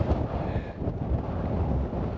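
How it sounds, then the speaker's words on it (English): Wind gusting on an exposed hilltop edge of Bleaklow moorland in the Peak District, a steady low buffeting roar across the microphone with no voices. "it's a bit windier from when I last checked"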